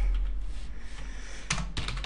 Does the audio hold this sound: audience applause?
no